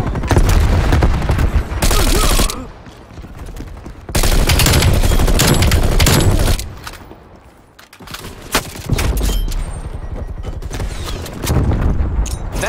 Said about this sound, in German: Granate geht raus. Werfe Granate.